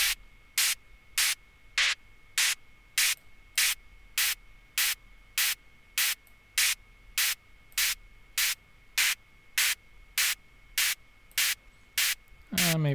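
A hi-hat pattern run through a high-pass filter with the resonance turned up, giving a thin, metallic tick. About twenty evenly spaced bright hits sound alone over a steady hiss.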